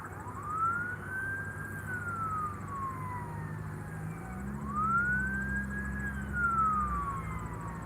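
Emergency vehicle sirens at an airport wail in two long rising-and-falling cycles over a low engine rumble, fairly close and steady.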